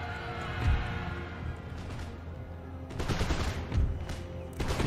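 Massed canister shot and musket volleys crackle through a battle in the video game Empire: Total War, with dense overlapping gunfire, loud bursts near 0.7, 3 and 4 seconds, and a constant din of combat.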